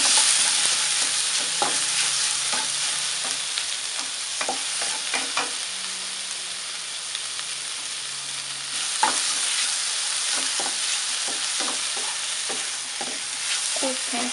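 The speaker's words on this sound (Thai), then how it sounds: "กุ้งนี้เราจะผัดไม่นานนะคะ" Shrimp stir-fried in a wok for a Thai phat cha dish give a continuous hissing sizzle, with frequent scraping and tapping strokes of a spatula, close and unbroken for the whole stretch.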